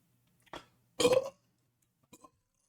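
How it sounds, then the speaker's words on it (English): Three burps, the middle one loudest and longest, with weaker short ones before and after, close and alone in a quiet room. "No, these burps are weak tonight."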